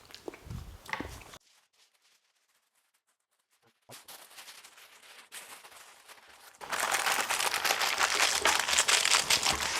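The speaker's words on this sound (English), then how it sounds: "Make sure that there's foil contact all the way around." Aluminium foil crinkles loudly as it is wrapped around sauced Texas BBQ ribs. A short rustle is followed by a near-silent pause and a quieter patch, then a dense, sustained close-up crumpling with no talk.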